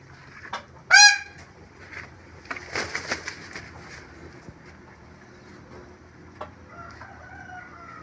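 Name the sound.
Java pied peacock calling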